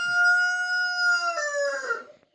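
A rooster on a homestead crows once, loud and close, a long drawn-out call that breaks and fades at the end, with no other sound around it.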